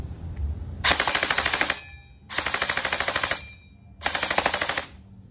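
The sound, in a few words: Sijun MP5A4 airsoft gun firing full auto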